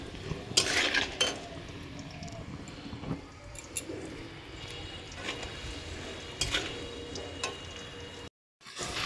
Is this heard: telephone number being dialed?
no